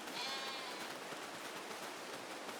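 Sheep bleats in Farming Simulator 22, a single short bleat near the start set within a constant hissing wash of ambient game noise, fairly quiet overall.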